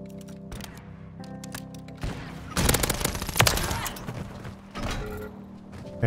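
A pistol in a shooter video game fires in bursts of sharp repeated shots, loudest in the middle, with mechanical clicks and handling sounds around them and no talking.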